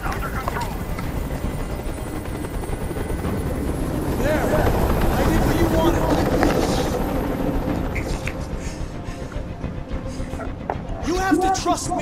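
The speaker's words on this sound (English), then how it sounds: "I can't stand that noise anymore. Tell that helicopter to get out of here." A helicopter in the video game Detroit: Become Human whirs steadily throughout, swelling louder midway, while a voice speaks over it.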